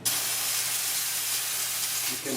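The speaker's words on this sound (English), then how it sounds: "You can purge the steam one" A Lelit Bianca V3 espresso machine's steam wand purging gives off a loud, steady hiss of steam right up close, holding constant for a couple of seconds before easing at the end.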